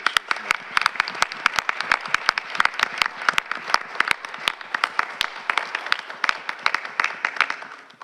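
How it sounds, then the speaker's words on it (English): An audience at a Bloomfield Board of Education meeting gives a round of lively applause, with dense, irregular clapping that holds steady for several seconds while some voices carry underneath. "I think a round of applause to every Bloomfield Education Association."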